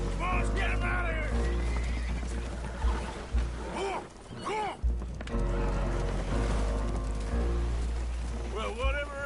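Spooked horses neigh and whinny aboard a leaking boat in Red Dead Redemption 2, several rising calls breaking through a steady wash of water and rumble while voices talk over the scene.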